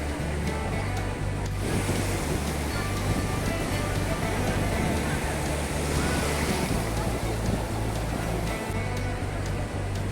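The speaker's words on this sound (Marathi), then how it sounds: "समुद्राच्या खळखळणाऱ्या लाटांमध्ये बसून भिजण्याचा आनंद घेतला" Continuous roar of sea waves washing in at Kovalam beach, Kerala, with strong wind buffeting the microphone throughout.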